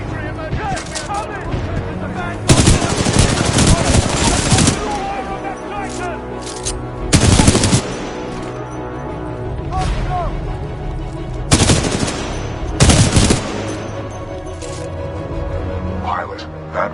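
Supporting gunfire in the video game Titanfall 2, with loud automatic bursts that crack out in several separated volleys over a rumbling battle backdrop, and a voice talking in between.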